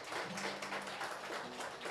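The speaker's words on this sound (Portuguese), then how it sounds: "Você pode aplaudir Jesus?" A church congregation applauding together, a dense, steady wash of clapping heard from a distance, with a faint low hum running beneath it.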